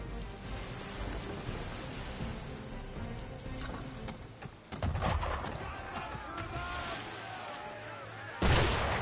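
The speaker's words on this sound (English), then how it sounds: "Why is he shooting at us?" An enemy ship firing on a vessel in Assassin's Creed III, heavy cannon booms and crackling impacts over rough sea and wind ambience, with a sharp blast near the end.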